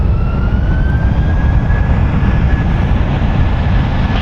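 A 15-year-old United Airlines Airbus A319 departs San Francisco International, its loud, steady jet roar with a slowly rising whine filling the short stretch without any voices.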